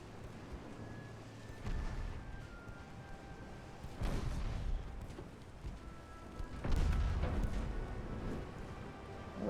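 Heavy naval guns from warships in the game Ultimate Admiral: Dreadnoughts boom in three deep, rumbling blasts spaced a couple of seconds apart over a steady low background din.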